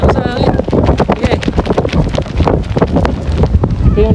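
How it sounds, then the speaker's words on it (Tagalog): Strong gusty wind buffets the microphone while a kite is flown outdoors, a loud continuous roar with rough bursts throughout, and people talk over it. "Ito yung lakas niya. Parang may bagyo."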